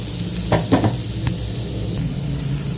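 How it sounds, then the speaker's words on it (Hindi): Cumin seeds sizzle in melted butter for a tadka for masoor dal, a steady close frying hiss with a few stirring clinks and scrapes early on, no talking. "एक और तड़का लगाने के लिए जी मक्खन लिया है और इसके अंदर ये पिघल जाए तो इसके अंदर मैं थोड़ा ज़ीरा डालूंगा।"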